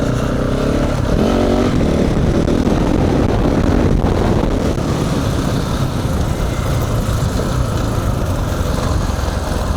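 A KTM 690 Enduro single-cylinder adventure motorcycle drones steadily while riding on mountain roads, its engine note buffeted by heavy wind rush across the microphone throughout.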